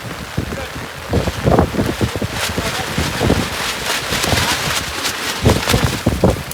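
Heavy rain and gusty wind buffeting the microphone near a dam while fishing, loud and rough throughout, with bursts of rumbling noise and a voice partly buried underneath.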